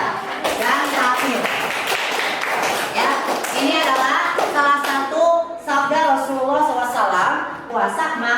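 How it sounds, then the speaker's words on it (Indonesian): Children in a classroom clap their hands in a burst of quick, close applause, with voices of children and a teacher chattering over and after the clapping. "Tepuk tangan untuk Dinda dan Safir."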